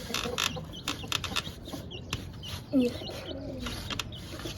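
Pigeons cooing softly at moderate distance, a couple of low rounded coos amid scattered clicks and rustling background noise.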